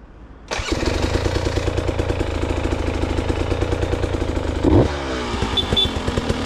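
A 2024 KTM 300 EXC TBI two-stroke dirt bike starts abruptly, then runs with a loud, close, rapid ringing idle and one brief blip of the throttle near the end.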